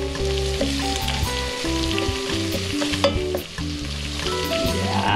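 Pork ribs frying in a pan with onion, chili and garlic for Bicol Express, giving a loud, steady, close sizzle with stirring throughout and no talking.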